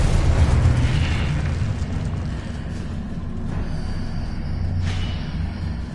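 Confringo spell explosion in Hogwarts Legacy on PS5, a loud, sustained fiery boom with heavy low rumble and crackling bursts across several seconds.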